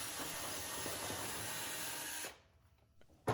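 A power drill bores holes in the mounting tabs of a FUSO truck for an overland habitat, giving a steady, close whirring hiss for about two seconds before it stops and a sharp click ends the clip.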